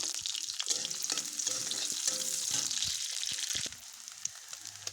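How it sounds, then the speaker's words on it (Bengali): Onion and carrot fry in oil for chow mein, a bright, steady close sizzle with intermittent stirring scrapes, easing slightly near the end, no voices. "পরিমাণ মতন তেল ভালো করে পেঁয়াজ আর গাজরটা ভেজে নিতে"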